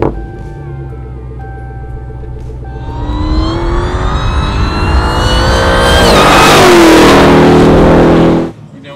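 A 1700-horsepower twin-turbo Dodge Demon 170 revs up loud and close, engine pitch climbing steadily through several seconds of hard acceleration before cutting off abruptly near the end.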